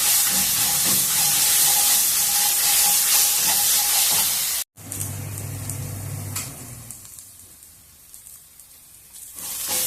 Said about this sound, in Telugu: ఉడికించుకుని పెట్టుకున్న గోంగూర చింతపండు వంట వేసి బాగా కలుపుదాము ఆయిల్లో కొంచెం మగ్గనిద్దాము